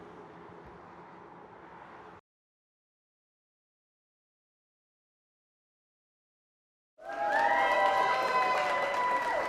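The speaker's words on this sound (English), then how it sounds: "A round of applause and a shower of balloons for Charlie Buck" A crowd claps and cheers at Charlie Buck's 100th birthday celebration: a short burst of applause, a few seconds of silence, then louder, sustained clapping mixed with cheering voices.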